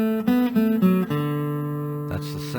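Short gospel guitar run from an Amazing Grace solo, a few quick plucked notes sliding into a held ringing note, close and clear, no talking.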